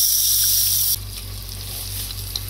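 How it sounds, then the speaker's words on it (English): Hot water poured into a pan of vindaloo chicken, a sharp hiss and sizzle that drops suddenly into a quieter simmering bubble, close and alone. "and then add hot water"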